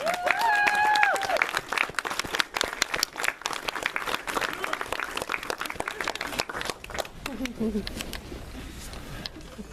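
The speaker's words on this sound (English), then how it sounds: "Ladies and gentlemen, give them a round of applause, please" An audience applauds the film cast at a Q&A in Memphis, Tennessee, with sustained, loud clapping from a crowd that tapers off toward the end. A voice speaks briefly at the start.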